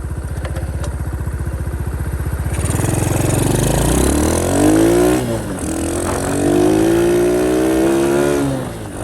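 A Honda CT70 with a Lifan 125 engine idles with a rattling putter, then revs up and down loudly several times, exhaust roaring up close.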